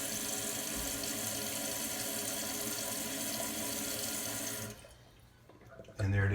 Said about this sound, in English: as you see, the tank's filling up pretty good